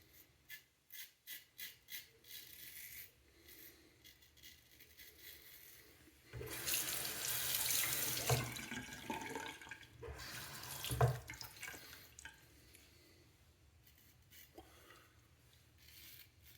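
Bathroom tap running at a sink as hands are wetted during a wet shave: light clicks and handling first, then a strong, steady rush of running water for about five seconds that tapers to quieter trickles and small movements.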